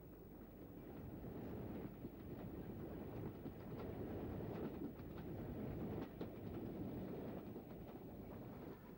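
Steam locomotive Lord Dowding heading an up express through Eastleigh, a continuous heavy rumble with faint rhythmic clatter of passing carriages, steady and fairly close under wind noise.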